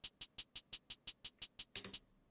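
Unprocessed trap hi-hat samples: eleven crisp, bright closed-hat ticks in a steady even run, then a slightly busier double hit at the end, close and dry with no voice.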